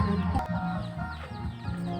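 Chickens clucking close by on a Thai fighting-cock farm, soft repeated clucks layered over a low background murmur.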